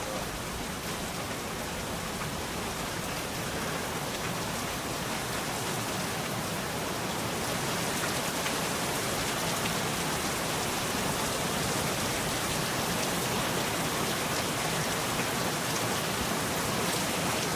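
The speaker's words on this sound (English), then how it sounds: "It rains so much for me in this game." Steady rain falling in a hunting video game, a dense, even hiss of drops that holds unbroken and fairly loud throughout.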